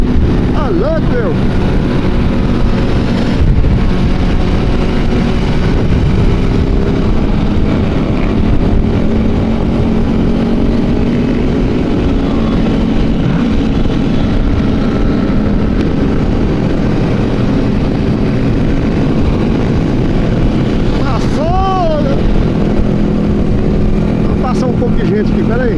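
Large group ride of over 400 motorcycles on a highway from Goiânia to Itauçu, with a continuous loud, dense engine drone and wind rush close by, one rising whine near the end, and voices faintly underneath.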